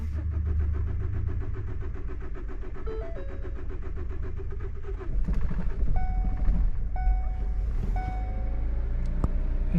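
A car engine, just started after a fuel pump repair, runs steadily at idle, its low rumble shifting partway through, while several short electronic beeps chime over it.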